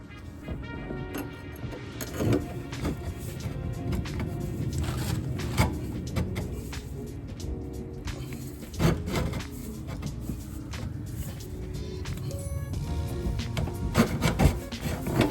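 Metal exhaust pipe scraping and grinding as it is pushed into place under a V6 Porsche Cayenne 955, irregular close rubbing and clunks with no talking.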